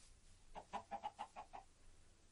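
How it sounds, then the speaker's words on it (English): A Minecraft chicken gives a quick run of about seven clipped clucks in a steady rhythm, faint and alone against a quiet background. "Hello, chicken."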